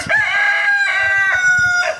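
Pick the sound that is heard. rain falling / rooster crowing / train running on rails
rooster crowing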